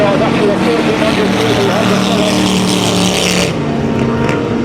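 Race cars competing at a 2007 sand racing championship: a loud, continuous engine roar fills the whole stretch, with a commentator talking over it.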